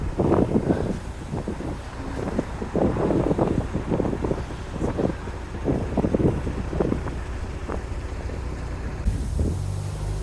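Wind gusts across an open canal lock on the Buckby flight, blustering steadily into the microphone with low rumbling buffets and faint water movement, no voices.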